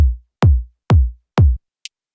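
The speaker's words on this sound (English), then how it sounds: "a kick body," Kick body layer of a melodic house kick drum: three or four solid mid-weighted thuds spaced evenly under a second apart, clean and dry, followed by a tiny high tick.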